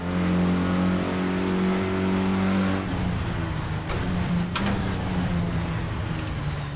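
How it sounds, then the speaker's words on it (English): A Renault Clio Cup race car engine in Assetto Corsa drones at a steady pitch, then shifts and revs higher with a rough, buzzing tone; loud and continuous, no talking. "Not only does the motor sound great"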